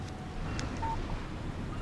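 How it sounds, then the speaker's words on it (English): A short electronic text-message alert tone chimes once on a cell phone in the game Alan Wake, a brief faint beep set against steady outdoor wind and ambient rumble. "Text message from Barry."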